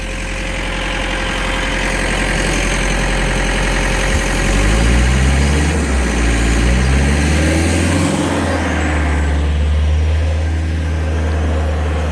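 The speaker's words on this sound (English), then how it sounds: "So we have a big compressor to find a big leak in the middle of the forest." A big air compressor runs full blast in a redwood forest, pumping air pressure down a hill to find a leak; a loud, steady low engine drone with a slight shift in pitch midway, no voices.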